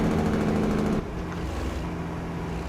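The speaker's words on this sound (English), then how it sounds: "Nice bit of engine noise there." Truck engine in the video game American Truck Simulator with the exhaust brake in: a loud droning engine rumble that abruptly drops to a lower, quieter growl about a second in, then holds steady.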